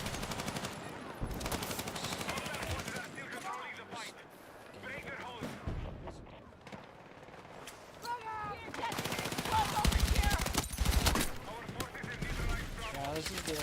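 LMG fire in the video game Battlefield 6, with rapid bursts of automatic shots and scattered gunfire and explosions, loud and close, broken by brief pauses while a player talks over the action.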